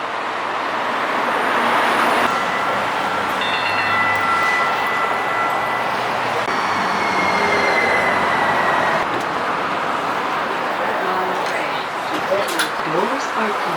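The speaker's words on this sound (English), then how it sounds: "the Max train is straight up ahead here" A Portland Max light rail train rolls past with steady broadband rumble and faint wheel squeal tones, heard up close for the whole stretch, and voices talk quietly underneath.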